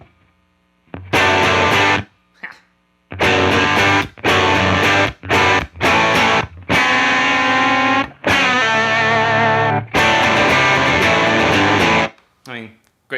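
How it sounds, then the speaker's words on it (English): A Telecaster electric guitar plays through a Fender Bassman amp on the normal channel, bright switch on and volume about halfway: loud strummed chords and ringing notes in separate bursts with short silences between them, some held and left to decay. "here's the sound of the amplifier just going right into the Bassman on the normal channel"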